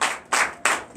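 Congregation at a Sunday church service in Benin clapping in acclamation, three loud, sharp unison claps in an even rhythm, close and alone.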